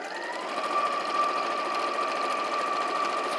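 A sewing machine stitches two fabric pieces placed right sides together along a quarter-inch seam for a make-up brush roll, giving a steady, continuous close-up whir with no talking.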